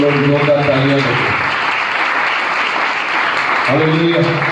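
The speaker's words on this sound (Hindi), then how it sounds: "इस प्रभु के लिए हम लोग जोरदार तालियां दें।" Loud, sustained applause from a church congregation at a Sunday service, filling the whole stretch, with singing or chanted voices rising over the clapping at the start and again near the end.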